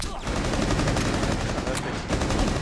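Dense automatic gunfire in the video game Rainbow Six Siege during a Terrorist Hunt round rattles loud and nearly continuous, with rapid overlapping shots and a few sharper cracks.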